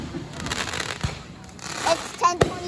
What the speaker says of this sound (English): These fireworks have been going off for half an hour now.